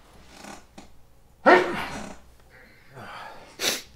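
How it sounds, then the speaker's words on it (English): A single sharp human sneeze bursts out loudly after soft breathing, followed by a quieter snort-like exhale. "I'm going to sneeze."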